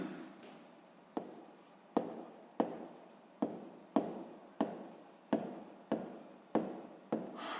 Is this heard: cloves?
no